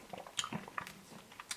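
Someone chews a spoonful of crunchy caramel chocolate ice cream close to the microphone, with soft wet squishes and a few faint crunches over about a second and a half.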